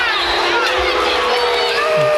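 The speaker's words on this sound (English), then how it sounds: "Crowd wanting some fouls in there, not getting them." A home basketball crowd at a Wildcats game in Lancaster shouts and jeers for fouls, a dense, loud roar of many voices with no pauses throughout.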